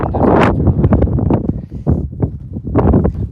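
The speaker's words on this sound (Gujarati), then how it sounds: "અત્યારે પવન ફૂલ છે." Strong mountain wind in Ladakh buffets the microphone in loud, continuous gusts during a cycling trip, with rustling and rumble swelling and easing throughout.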